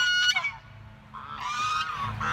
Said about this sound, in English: He was supposed to be the guard goose.